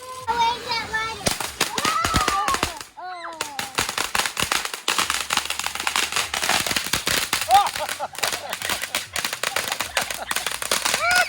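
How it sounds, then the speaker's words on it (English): Fireworks and firecrackers go off outdoors in rapid, irregular bursts of sharp cracks and pops, close and loud, while children shriek and talk excitedly throughout. "get the fireworks"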